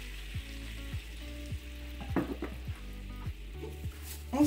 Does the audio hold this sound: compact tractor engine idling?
no